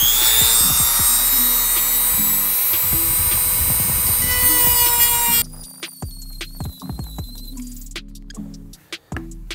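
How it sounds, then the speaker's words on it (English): A rotary tool with a sanding drum widens a hole in a Seibon carbon fiber hood on a Honda Civic, a loud high-pitched grinding whine that stops midway, followed by lighter scraping and taps nearby. "take my rotary tool and just widen this hole just a little bit with the sanding drum"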